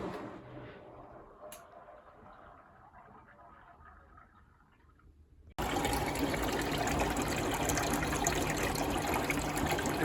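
Water rushes out of a working washing machine left on the kerb as it drains, a quiet trickle that abruptly jumps to a loud, steady gushing flow, close by, with no talk.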